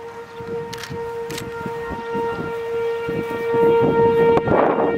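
Civil defense tornado siren in Arcadia during a storm, a steady distant wail with sustained tones, outdoors with wind and scattered rumbling over five seconds.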